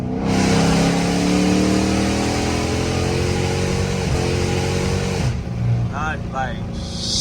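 A rebuilt all-wheel-drive Dodge Charger engine roars loud and close, holding a steady rev before dropping on downshifts, with voices talking over it near the end.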